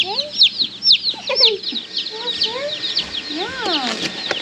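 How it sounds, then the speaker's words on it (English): Baby chickens cluck and cheep in a busy, overlapping chorus of short calls, close by and fairly loud, with a few rising peeps standing out. "What do you think of the baby chickens?"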